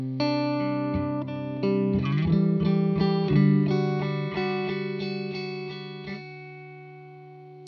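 A Chase Bliss Dark World reverb pedal sweeps through its full range on a sustained, distorted guitar tone, with a pulsing, rhythmic chop and shifting pitch before the sound fades into a held note.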